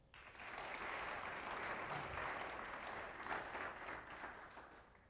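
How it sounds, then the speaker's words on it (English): Audience applause for Tulip Queen candidates at the Orange City Tulip Festival, a dense, steady burst of many hands clapping in a large crowd, sustained evenly for about five seconds with no talk over it. "Please give these ladies a round of applause."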